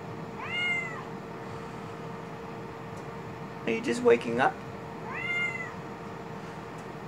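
Indoor cat giving two clear meows a few seconds apart, near and moderately loud, while a person speaks to it between the meows over a faint steady background hum.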